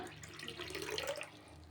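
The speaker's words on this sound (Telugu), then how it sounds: "ఇవ్వండి, ఇంకో గ్లాస్ పోస్తున్నా" Water is poured from a glass into a pot of horse gram soaked overnight for ulava charu, a steady close splashing pour lasting the whole moment without any voices.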